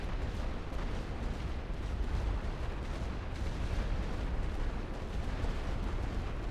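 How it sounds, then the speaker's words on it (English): Artillery barrage in The Great War: Western Front, a World War I video game: a continuous, dense rumble of heavy shelling with overlapping deep booms, steady and loud throughout with no clear pauses. "Commencez le tir de barrage"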